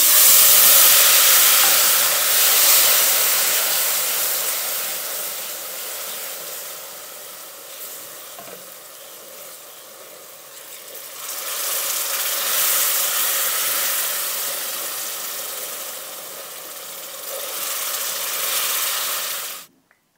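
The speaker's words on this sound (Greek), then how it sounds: "Ρίχνουμε σιγά σιγά το σιρόπι." Syrup poured slowly into hot semolina for a vegan halva flavoured with orange zest sets off a loud, continuous steamy hiss and sizzle that swells in two long waves and then cuts off abruptly, with no talking.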